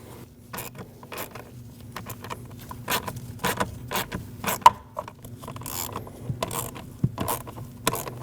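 Ratchet tightening the mounting screws of a blower motor resistor on a Nissan Frontier, a series of short clicking strokes in irregular bursts, close and fairly quiet.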